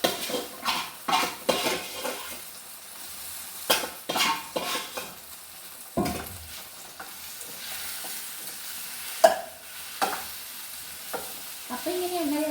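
Cooked tapioca being reheated in oil in a pan with leftover onion and curry leaves, a spoon stirring and scraping against the metal in irregular clinks over a soft sizzle, close by with no talk.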